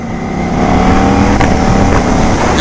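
A Ducati Panigale V4 motorcycle fitted with an aftermarket exhaust roars loudly and steadily under acceleration, with a brief crackle near the middle of its dense, continuous engine note.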